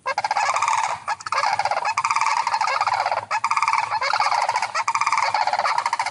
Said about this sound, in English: I proudly present what could be either the Sandhill crane or the Jersey Devil or both